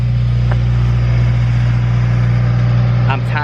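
A freshly tuned car with a newly installed exhaust idles loudly nearby, a steady deep drone that holds unchanged throughout.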